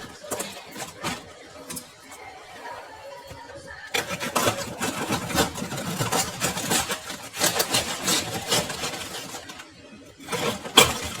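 A cabbage being cut up for stuffed cabbage in a kitchen gives close, crisp crunching and tearing bursts, repeated and growing busier as the work goes on.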